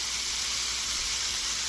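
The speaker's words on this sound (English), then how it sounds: "Nice sizzle." Mushrooms searing in a very hot pan give a steady, dense sizzle, close and constant, with no voices over it.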